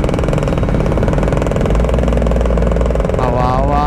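A Kawasaki Ninja 1000SX motorcycle engine runs steadily and loud as it rolls into flood water, a constant close mechanical drone with a faint rising whine near the end.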